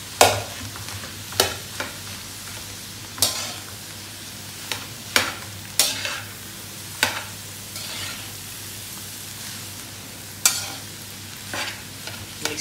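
Fried rice is stirred and tossed in a hot pan, with sharp scraping clanks of the utensil recurring every second or two over a soft, continuous sizzle.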